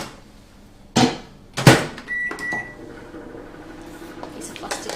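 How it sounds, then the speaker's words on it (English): A microwave oven melting chocolate: two sharp door clunks, a short electronic beep, then a low steady hum that runs quietly to the end. "I'll put that in the microwave just to prove it to you"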